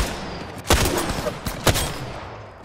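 Gunfire in the battle royale game Apex Legends, apparently a Wingman pistol: two sharp, loud shots about a second apart, each followed by a short echoing tail, over faint background game noise.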